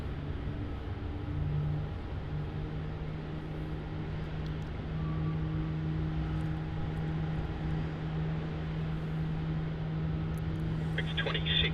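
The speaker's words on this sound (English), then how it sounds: "A nice little close-up there of the A321 Neo" Airbus A321neo jet at Melbourne Airport, a steady low engine drone and hum held at a distance, under faint background noise.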